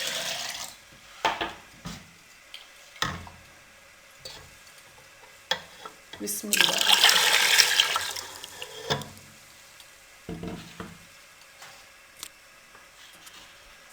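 Water is poured into a jug in a home kitchen while making karri pakora, a long loud splashing burst in the middle with shorter pours and clinks around it, and a brief spoken blessing near the start.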